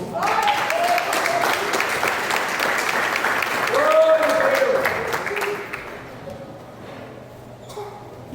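A church congregation applauds during a Father's Day service, a dense wash of clapping that swells midway and then thins out, with some voices mixed in.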